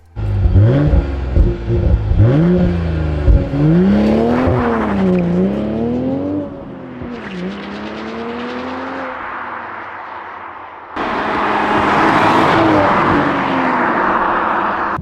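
A Toyota GR Supra sports car drives hard on a narrow country road, its engine loudly revving and rising through the gears with shifts between them, then settling into a steady roar with strong road and wind noise.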